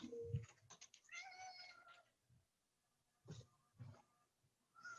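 A house cat meows several times in a home-office setting, a longer drawn-out call followed by shorter meows after a pause, fairly close and moderately loud, with faint keyboard typing underneath.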